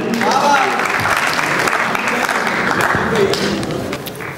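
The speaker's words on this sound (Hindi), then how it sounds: "आप सबकी भरपूर तालियों में" Loud, sustained audience applause fills a Sufi poetry gathering at a Lahore festival, steady throughout with some crowd voices mixed in.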